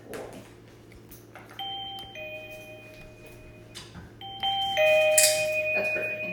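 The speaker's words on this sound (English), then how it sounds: "the next time that the doorbell goes off" A household doorbell chimes twice with clear ding-dong tones, the second ring louder and closer, over a quiet indoor background with no talking.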